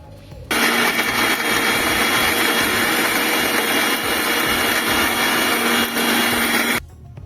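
A kitchen mixer grinder whirs loudly while grinding garlic into paste for a rural-style mutton curry, starting abruptly, running steadily for about six seconds with a brief dip, then cutting off.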